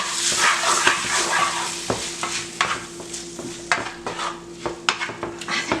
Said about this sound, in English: We're going to stir this.